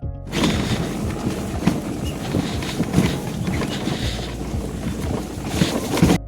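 Riding a scooter outdoors after rain, with heavy continuous wind buffeting the microphone and a low rumble of the ride underneath.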